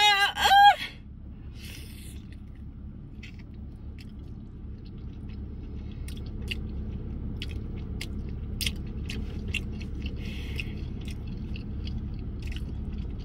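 Chewing on a bite of oxtail with gravy, soft wet mouth sounds and small crunchy clicks scattered over a low steady room hum, after a brief voice at the very start.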